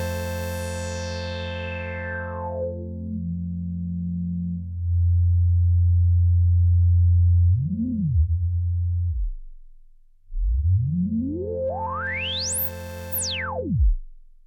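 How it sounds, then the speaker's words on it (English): Moog Subharmonicon analog synthesizer with its resonant 24 dB filter being adjusted, a sustained electronic tone whose pitch sweeps down, holds low with a brief blip, then sweeps sharply up and back down, loud and alone. "when I'm increasing here the resonance, you can hear that a lot of volume is removed and also a lot of bass"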